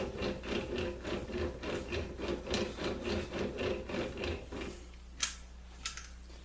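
A blade being sharpened on a sharpening stone: rhythmic back-and-forth rubbing strokes, about a dozen in steady succession, followed by a pause, a sharp knock and a softer clack.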